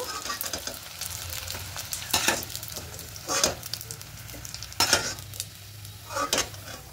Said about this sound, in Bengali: এই পিঠটাও ভেজে নেব। দেখুন ভাজা হয়ে গেছে